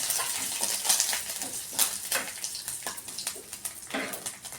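Curry leaves crackling in hot oil with fennel seeds, a steady busy sizzle broken by sharp pops and spits throughout, fairly close and with no talk.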